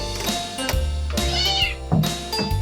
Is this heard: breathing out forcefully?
no